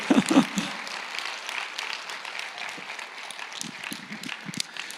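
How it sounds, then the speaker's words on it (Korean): A church congregation at an evening revival service claps together, starting with a few louder nearby claps, then settling into softer, scattered applause across the hall. "박수를 치실래요? 확실하게 치시죠."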